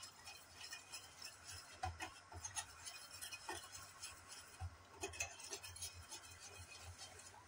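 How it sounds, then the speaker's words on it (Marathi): Hot cooked dal being mashed with a whisk in a pot, giving soft, quiet, continuous stirring and light clinking strokes close by, with no one speaking. "ती आता चांगली अशी गरम असतानाच घोटून घ्यायची"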